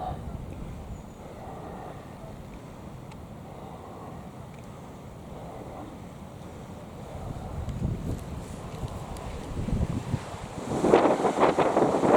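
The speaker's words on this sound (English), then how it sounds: "Yeah, it's still very windy." Steady wind roars and buffets a microphone, with surf-like rushing that swells louder toward the end.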